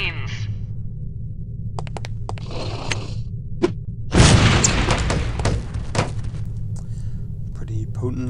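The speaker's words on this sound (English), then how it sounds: "These relatively inconspicuous-looking lipsticks are actually powerful explosive devices that detonate on impact." A lipstick-shaped explosive gadget detonates on impact in the stealth video game No One Lives Forever, set in Berlin by night, giving one sudden loud boom with a rumbling tail amid game sounds and faint clicks.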